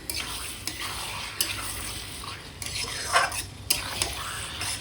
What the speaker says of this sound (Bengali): এবার মাংসটা মশলার মধ্যে ভালো করে একটু কষিয়ে নিই